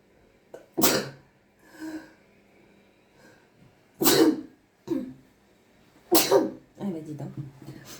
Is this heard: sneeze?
yes